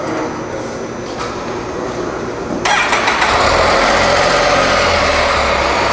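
A motorcycle at a dealership starts up and settles into a steady, buzzy idle, a small light engine whose thin drone fills the space after a brief crank.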